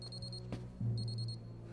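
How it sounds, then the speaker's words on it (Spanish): Alarm clock ringing in two short bursts of rapid electronic beeps, separated by a pause, with a low hum and a brief thud in the background. "en cualquier momento sonará mi despertador"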